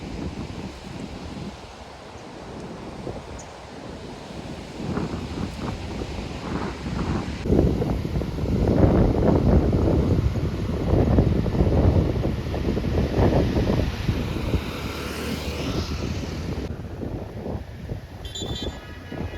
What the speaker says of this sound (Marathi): खूप मोठा समुद्र आहे.